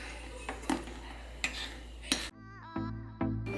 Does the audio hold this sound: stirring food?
yes